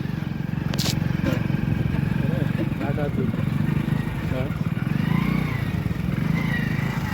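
A motorcycle engine hums steadily beneath people talking, riding near the Madenur Hirebhaskara Dam, the ride continuing at a constant pace with a few brief scrapes and clicks.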